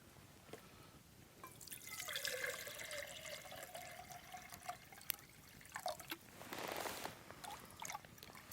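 Water poured into a pot on a propane camping stove outdoors, a soft splashing and trickling stream with a rising fill tone, close by and fairly quiet, with no talk.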